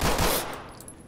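Rapid gunfire bursts from the Ready or Not video game, a loud, dense clatter of several quick shots in the first half-second that fades into a lingering ringing tail.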